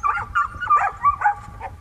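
Hunting dogs from a pack on São Miguel in the Azores bark and yip in quick, close bursts before the opening rabbit hunt, loud and overlapping, with no one talking.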